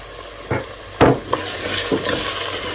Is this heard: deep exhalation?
no